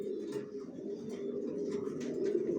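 Johnson long-line racing pigeon chicks in a loft give a continuous low cooing drone, close and steady, with faint higher chirps above it and no talk.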